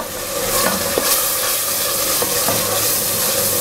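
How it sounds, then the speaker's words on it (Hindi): Bottle gourd and chana dal masala, with two spoons of beaten yogurt just added, sautés in a pan with a bright steady sizzle and a few sharp scrapes and knocks from the stirring spoon, close and unaccompanied by speech. "ये 2 चम्मच दही ऐड कर देंगे। इसकी अच्छी तरह भुनाई करेंगे।"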